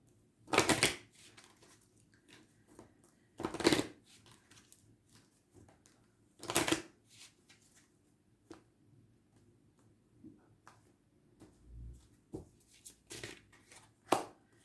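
Tarot cards being drawn and shuffled, heard as several loud, brief riffling bursts spaced a few seconds apart, with soft handling rustles in between and no talk.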